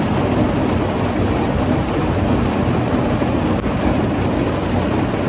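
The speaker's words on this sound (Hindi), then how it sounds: "रुकने का नाम ही नहीं ले रही बारिश" Heavy rain pours steadily and loudly, heard from inside a car, a dense unbroken roar with no voices.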